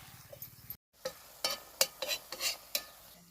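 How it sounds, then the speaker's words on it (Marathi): A spoon stirs makoy wild greens cooking in a pan, making a string of soft scraping strokes with a light sizzle underneath, near and fairly quiet. "तर अशी मिक्स करून आपल्याला अशीच थोड्या वेळ शिजू द्यायची आहे"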